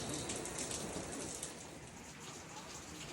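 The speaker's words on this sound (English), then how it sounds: "It's raining." Steady rain falling outdoors on a warm-climate day, a dense, continuous hiss of drops pattering on surfaces, fairly loud and close, with no voices over it.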